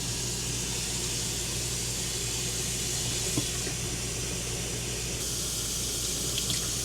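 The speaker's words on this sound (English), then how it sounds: "So I'm going to turn the water on." Steady rushing of water pouring from a tap in an RV, a continuous even hiss with no voices.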